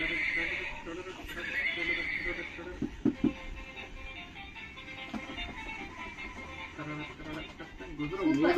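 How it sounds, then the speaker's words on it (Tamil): A horse neighs loudly and repeatedly, mixed with hoof clip-clop and voices talking over it, growing louder toward the end. "It's a horse."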